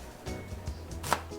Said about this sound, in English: Let's start off with chopping our onion.